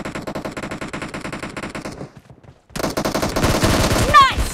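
Rapid automatic gunfire in the battle royale video game BGMI, loud bursts of rattling shots that break off into a short pause and then resume even harder.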